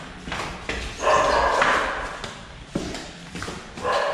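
Outside a rental house in a quiet neighborhood in Dumaguete, the Philippines, a dog keeps barking in the background, with several moderately loud barks in uneven succession over steady outdoor ambience.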